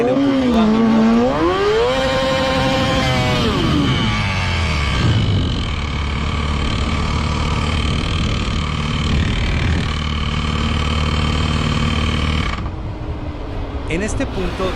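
A faulty racing motorcycle engine revs up and down, then settles into a loud, rough, steady drone with an uneven mechanical edge before cutting out near the end.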